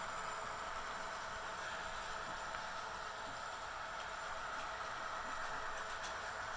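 Model train locomotives, an Aurora Miniatures SD60F and an Athearn Genesis SD45-2 with sound decoders, giving a faint steady diesel engine drone and hiss as they crawl slowly past, continuous with no talk.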